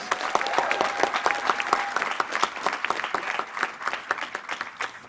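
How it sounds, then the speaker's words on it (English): A graduation ceremony audience breaks into sustained applause, a dense steady patter of many hands clapping at once, moderately loud and continuous throughout. "let's give them a loud hand of applause"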